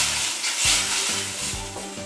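Mutton liver cooking with ground spices (red chilli powder, cumin, garam masala) in a pan for Bengali kolija bhuna, a steady close sizzle broken by several rhythmic scraping stirs of the spatula, with no talking.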